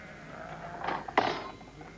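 Sheep in a flock bleating, two distinct wavering bleats close together, fairly clear over a quiet outdoor background.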